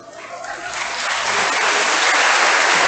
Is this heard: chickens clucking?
no